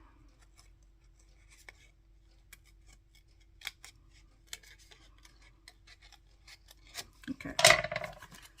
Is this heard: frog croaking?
no